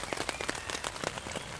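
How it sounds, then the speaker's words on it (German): Steady rain pattering on a tent while camping, a dense spray of soft drops with scattered louder taps, close and even throughout, no voices. "Also, der Regen hat so weit nachgelassen"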